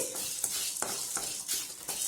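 Cumin seeds roast in a pan for chicken gravy, with a soft sizzle under regular spatula strokes about every third of a second, close up and moderately quiet.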